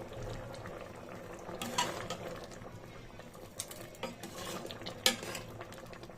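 Chopped onion and garlic tempering in hot oil for a bottle gourd and lentil curry makes a soft, continuous sizzle and bubbling, with scattered utensil scrapes and a few sharper clinks against the pot.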